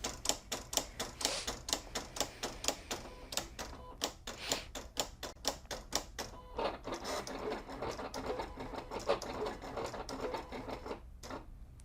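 A Silhouette CAMEO cutting machine makes a test cut on holographic heat-transfer vinyl, giving fast rhythmic clattering bursts of the carriage and blade, close and steady, with short pauses between passes and no talk.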